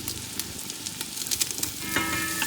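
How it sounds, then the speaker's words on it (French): Shallot crackles and sizzles steadily in melted butter in a pot, a dense, even frying hiss with small pops and no voices. "Je vais rajouter tout de suite l'équivalent d'une belle échalote dans le beurre."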